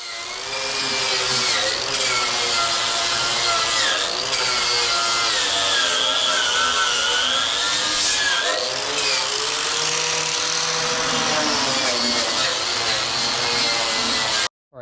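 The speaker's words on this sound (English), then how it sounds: "I hit the whole thing with the wire wheel real quick to get all that buildup and mud and surface rust off of there" Power wire wheel stripping mud, buildup and surface rust off a DIY steel rear bumper, a loud continuous abrasive whine and grinding hiss with pitch wavering under load, cutting off abruptly at the end.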